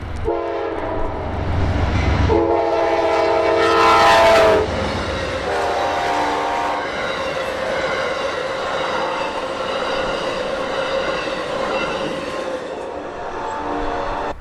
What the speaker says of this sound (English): Within minutes of arriving, Amtrak's northbound Silver Star came through.